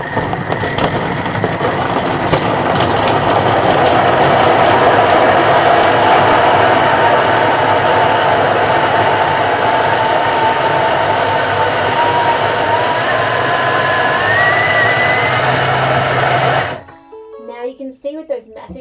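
A Thermomix chopping chunks of pumpkin and carrot at speed 7, a loud, steady whirring grind with a rising whine that runs for about fifteen seconds and then stops abruptly, followed by faint clatter.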